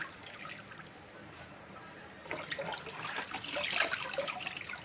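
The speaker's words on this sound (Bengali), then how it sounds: "আর তুলে জলটা ঝরিয়ে নেবো" Water draining off freshly washed kormi saag (leafy greens) in a kitchen, a soft, steady splashing trickle that grows louder and fuller in the second half, with no talking.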